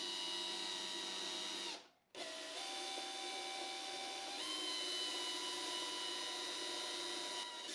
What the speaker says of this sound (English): set your drill's clutch to a low setting and start driving the screws slowly